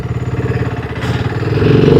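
A BSA Scrambler 650 single-cylinder motorcycle exhaust thumps steadily at idle, then the engine note rises slightly as it revs up, loud and close.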